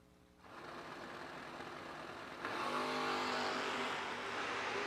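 No-box drag race cars at a drag strip, engines roaring loudly from a distance, then surging louder as they launch and race, a sustained harsh engine blare with no talk.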